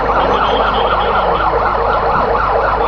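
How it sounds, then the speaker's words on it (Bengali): An ambulance from the civil surgeon's office arrives at Osmani International Airport in Sylhet after a plane skidded off the runway and caught fire; its siren wails loudly and continuously in a repeating rising-falling pattern. "আমাদের সিভিল সার্জনের দপ্তর থেকেও একটি অ্যাম্বুলেন্স এসে পৌঁছে গেছে"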